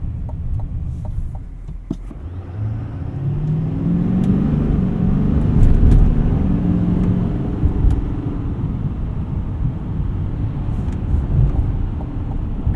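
A 2025 GMC Sierra 2500HD Denali Ultimate heavy-duty pickup pulls away hard from a stop, its engine note swelling into a deep, steady rumble with rising pitch over several seconds, heard from inside the cab with constant road and drivetrain noise.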